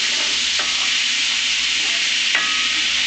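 Garlic sizzles steadily in a pan, a loud close hiss broken by two brief scrapes of a utensil stirring it, with no talk.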